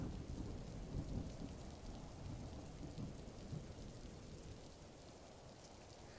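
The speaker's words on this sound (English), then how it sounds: "Thunder bellowed." Steady heavy rain pours down with low rolling thunder rumbling through it, a dense and constant storm wash with no voices, used as a backdrop for a dark horror story.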